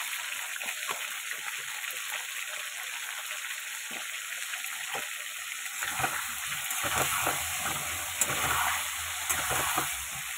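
Chicken and potatoes fry with turmeric in a pan, giving a steady, close hiss of sizzling oil broken by soft stirring knocks, growing slightly busier and louder toward the end.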